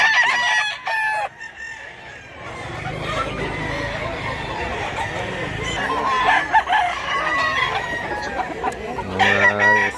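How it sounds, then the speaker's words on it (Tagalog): Roosters crow repeatedly and chickens cluck at a farm in Mantalongon, Barili, Cebu, the crows rising loud and overlapping against a steady background of poultry noise. "Wapo ko mga manok."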